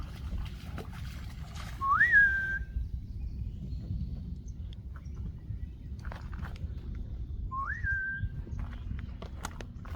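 Two short rising whistles sound a few seconds apart over a low, steady outdoor rumble, each brief and fairly faint.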